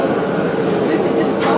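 An airport bus carrying passengers out to the plane gives a steady low rumble and road noise inside the cabin, continuous and fairly loud, with a voice speaking over it.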